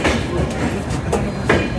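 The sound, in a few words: Ahmedabad Express passenger train running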